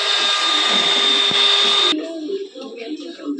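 An electric beater whirring steadily while mixing cake batter, a loud, close motor whine that cuts off abruptly partway through, followed by quieter clattering and handling sounds.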